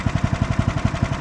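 An Ariens snowblower engine idles low and steady, a close, regular chugging pulse repeating about ten times a second with no voices over it.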